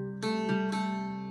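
An Irish bouzouki picks a short phrase of The Foggy Dew, a few bright plucked notes over ringing doubled strings, heard close and alone.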